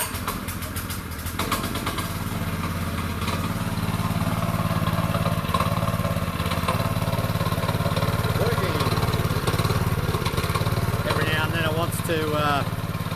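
A small engine runs steadily after a choke adjustment with a continuous buzzing drone, close by, while a person talks briefly near the end.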